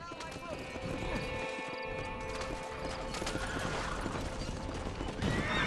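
A horse in the Red Dead Redemption PC game neighs over clopping hooves against game sounds, while someone talks over them.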